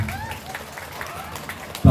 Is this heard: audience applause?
yes